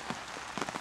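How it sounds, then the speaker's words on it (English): Heavy rain pattering on a canvas tipi in woodland, a dense steady hiss of drops with a few louder close splats, no voices. "We're still getting wet, far too much rain coming in."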